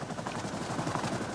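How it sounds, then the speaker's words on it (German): A helicopter during a lakeside search operation gives a steady, rhythmic rotor thumping that fills the whole short moment at moderate loudness, with no talk over it. "Hubschrauber."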